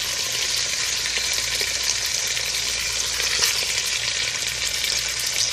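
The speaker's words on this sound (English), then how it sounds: "we will start to add the meat to the pan just to give it a shock" Fatty meat searing in a hot pan for an Egyptian colocasia stew, a loud, continuous hiss and crackle of sizzling fat at close range, with no speech over it.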